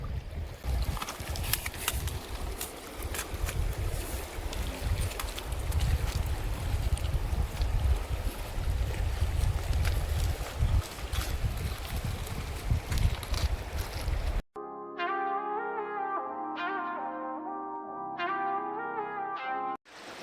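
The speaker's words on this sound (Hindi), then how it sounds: "बिल्कुल नदी किनारे और नदी की आवाज़ आ रही है" Steady rushing water of a river beside a campsite in Uttarakhand, India, roars loudly for most of the clip, with a windy texture, then gives way to music near the end.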